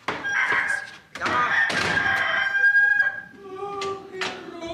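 A rooster crows in a rural Bavarian setting, with a loud, drawn-out crow that has several strained rising and falling phrases across a few seconds, and it carries clearly with no talk over it.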